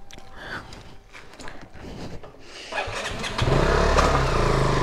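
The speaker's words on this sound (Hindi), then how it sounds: "ठीक है अब बाइक लेके निकल रहे हैं हम घर से।" A motorbike leaves home, with ticking and mechanical handling noises, then the engine starts and settles into a loud, close, steady idle and rev that swells toward the end.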